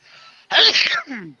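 A person sneezes once up close, with a short intake of breath before a sharp burst and a fading exhale after.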